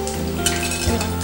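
Chilli chicken pieces fry in hot oil with a dense, loud, continuous sizzle and a faint clink of a utensil against the pan.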